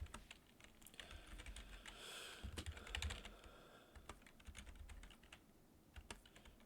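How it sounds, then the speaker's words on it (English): Fingers tapping on a computer keyboard, a quiet run of quick irregular clicks with brief pauses, close and faint, with no talking over it. "Oops, where am I typing? I'm typing somewhere."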